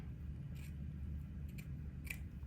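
A few quick, crisp snips of scissors cutting fabric, spaced apart over a low steady background hum.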